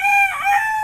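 A rooster said to have worms lets out a single loud, close crow that holds steady for under a second, alone with no talk.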